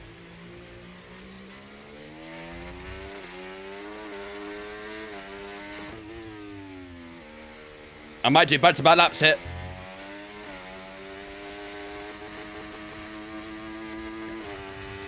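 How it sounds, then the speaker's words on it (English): Formula 1 racing car engine in an F1 video game during wet qualifying, revving with rising and falling pitch through gear changes, broken by a loud rattling burst as the car bounces over the curbs, with someone talking over it. "I can hear the engine bouncing over the curbs"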